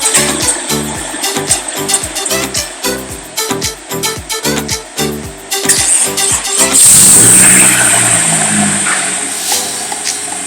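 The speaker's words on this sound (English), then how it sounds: "I haven't started this car in months, so let's see what happens." A Honda F20C engine swapped into a Toyota AE86 Levin/Trueno, unstarted for months, cranks in a rapid rhythmic chug, catches, and revs loudly close by before settling into a steady idle.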